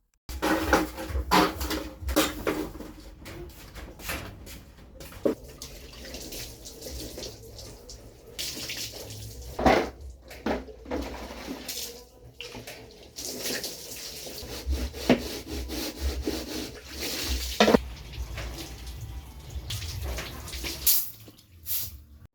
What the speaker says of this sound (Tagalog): Pagkatapos ko nag-car wash, brinash ko na rin yung sahig.